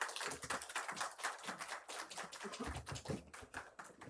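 Warm applause from a church congregation at an intergenerational worship service, welcoming a missionary to the pulpit: dense, steady clapping that continues without a break for several seconds.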